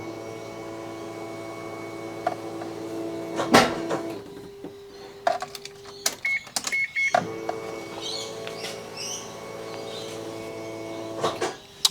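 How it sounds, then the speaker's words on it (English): The fuel pump of a Mazda RX-7 with an upgraded 500HP fuel system and surge tank whines as it is primed several times, heard as repeated electric hums and clicks in a quiet garage. "Fuel pump is very loud. Just priming it a few times."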